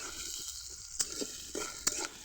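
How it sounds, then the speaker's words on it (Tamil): Onions and garlic sautéing in a hot pan, a steady close sizzle broken by a few brief scraping stirs, no voices. "பூண்டு வெங்காயம் எல்லாத்தையுமே போட்டு நல்லா வதக்கிக்கலாம்"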